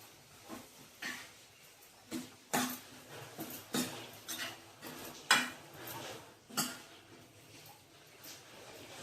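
Soaked peanuts and lentils tipped into a pot of Maharashtrian taro leaf curry (alu fatfata), giving a run of close, intermittent clinks and scrapes of spoon against pot with no talk.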